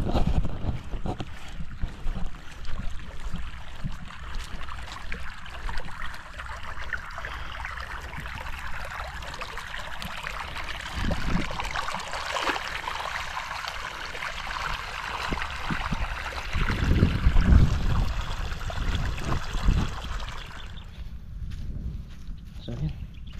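A boat engine runs steadily with a low rumble and broad wash throughout, under water and wind noise, with people talking over it, then cuts off near the end.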